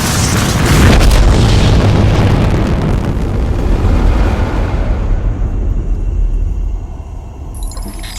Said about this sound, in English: we explode a big evil black blob thing, and the day is saved